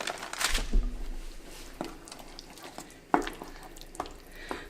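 Grated Parmesan being stirred into steakhouse-style creamed spinach in a pan, soft wet stirring with a few spoon knocks against the pot and a faint sizzle underneath.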